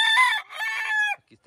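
A gamecock rooster crows once, loud and close, a single ringing call lasting about a second and then cutting off, with no talk over it.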